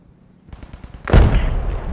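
A single heavy sniper rifle shot in a video game, a sharp close crack with a booming tail that lingers, preceded by faint clicking and handling noises, with no talk.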